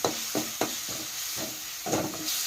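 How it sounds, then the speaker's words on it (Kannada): Crushed green chillies and turmeric are stirred in a frying pan, steady sizzling hiss with soft rhythmic scraping strokes repeating about every quarter second, close and fairly quiet. "ಎಲ್ಲವನ್ನು ಹಾಕಿ ಮಿಕ್ಸ್ ಮಾಡಿ ತಿರುಬೇಕ್ರಿ"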